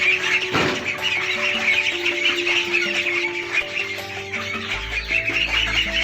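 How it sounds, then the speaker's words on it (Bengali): Sixty ducklings in a farm duck room, peeping and chirping together in a continuous close chorus, with a low hum rising near the end. "এখানে আমি ষাট পিস হাঁসের বাচ্চা রেখে রেখেছি"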